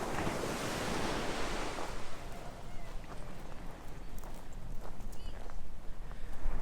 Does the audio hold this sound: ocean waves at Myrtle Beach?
yes